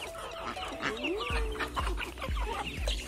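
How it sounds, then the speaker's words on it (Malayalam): Appenzeller Barthuhner hens in a coop on a small farm in Georgia cluck close by in short, repeated calls, along with a few soft dull thumps and some background rustling. "ഇതിന്റെ അകത്ത് എന്റെ കയ്യില് കൂടുതലുള്ള കോഴികളും"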